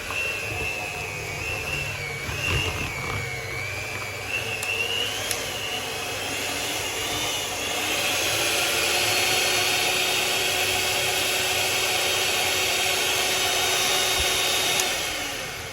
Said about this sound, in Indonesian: Ini di mixer sampai kalis ya teman-teman, sampai kayak berbentuk pasta kayak gitu loh teman-teman.